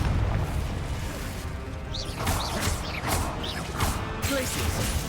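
A Confringo explosive spell goes off in Hogwarts Legacy, heard as repeated booming, crashing impacts with mechanical clatter amid a loud, continuous game soundscape.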